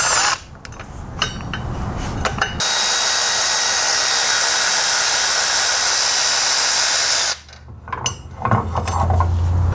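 A power tool spins off the 13 mm crankshaft pulley bolts on a BMW E30 with an M20 engine, one long loud, steady, hissing whir of about five seconds, with clicks and handling noises before and after.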